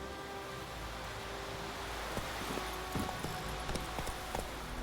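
Roach the horse gallops in The Witcher 3, a quiet, rhythmic clip-clop of hooves over a soft, noisy ambient bed.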